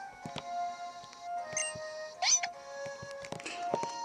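Espurr's short cat-like cry from the game Pokémon X, a brief high electronic mewing sound among synthesized background music, played quietly.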